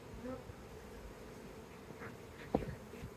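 A rescued honey bee swarm hums steadily during a hive inspection at Union Market in Washington, DC, a faint, even buzz with a brief soft knock near the end.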